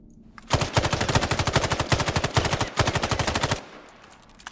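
Automatic rifle fire in the shooter game Islands of Nyne, a rapid sustained burst of evenly spaced shots with a few brief gaps where rounds pause, loud and alone.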